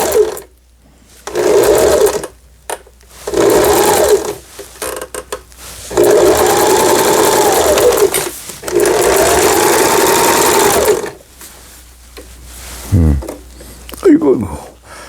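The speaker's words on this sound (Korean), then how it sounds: "C번에 지그잭 바느질이 나오게 되겠습니다" A Lion JF1012 sewing machine runs a zigzag stitch in loud, close bursts of rapid needle chatter. Several runs of a few seconds each are separated by pauses with small handling clicks.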